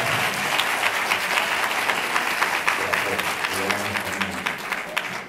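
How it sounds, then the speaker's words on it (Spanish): Audience at a regional volunteering congress applauds two young brothers from a public school, a dense, steady wash of clapping that carries on evenly, with faint murmurs of voices underneath. "vamos a darle un aplauso a todos."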